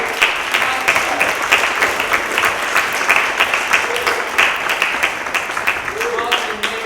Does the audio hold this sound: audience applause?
yes